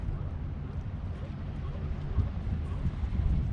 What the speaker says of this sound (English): pretty windy in here